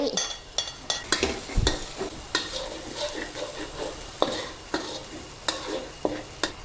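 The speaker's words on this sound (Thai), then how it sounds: "ลงมือผัดกันค่ะ ก่อนอื่นนะ ตั้งกระทะค่ะ ใส่น้ำมัน เครื่องที่โขลกไว้นะ มีกระเทียมมีพริกแล้วก็ มี พริกไทย แล้วก็ตะไคร้" Pounded garlic, chili, pepper and lemongrass stir-fried in hot oil in a wok, a close, steady sizzle broken by repeated sharp scrapes and clanks of the spatula against the pan, with no talking.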